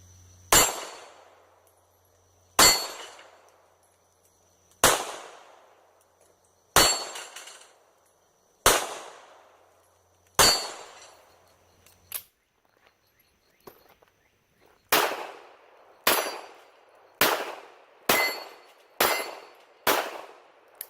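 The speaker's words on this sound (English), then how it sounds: "And now the diminutive little LCP. First time ever shooting this gun." A Ruger LCP pistol fired at the range, a series of about a dozen sharp, loud gunshots, each with a short decaying tail, spaced slowly at first and then coming faster near the end.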